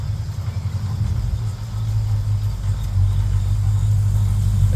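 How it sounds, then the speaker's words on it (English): A truck rolls past on a rainy day, a low engine rumble that builds and stays steady, close and fairly loud, with no talking. "There's a truck going by"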